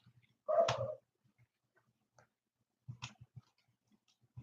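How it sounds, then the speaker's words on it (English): Dog at home giving one short muffled bark or yelp, followed later by a few soft snuffling or chewing sounds, faint and close in an otherwise quiet room. "I don't know what that dog is doing."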